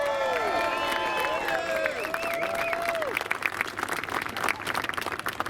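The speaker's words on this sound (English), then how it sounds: "So round of applause for yourselves." Crowd at a Freedom Convoy rally breaking into applause and cheering, with loud whistles and shouts at first, then dense clapping that keeps building toward the end.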